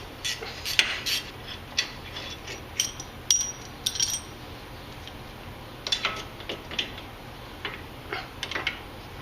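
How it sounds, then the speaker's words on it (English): Metal clicks and ratcheting ticks from a 13mm wrench and socket loosening brake caliper bolts on a Jeep Cherokee front axle, in short irregular bursts of clatter spread across the clip. "We're going to start by removing the caliper, 13mm wrench,"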